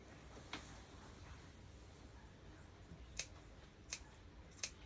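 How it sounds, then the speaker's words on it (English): Sharp scissors making little snips into fabric inside a skirt waist seam, four quiet crisp cuts spaced apart against a soft, hushed background. "Just little snips inside."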